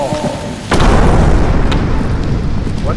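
A single loud, close bomb blast in the video game Content Warning, a sharp burst that settles into a long, sustained low rumble.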